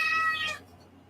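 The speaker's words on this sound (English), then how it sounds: "She's going to continue meowing, even though I'm holding her." A pet cat lets out one loud, close, drawn-out meow that cuts off sharply, followed by quiet room tone.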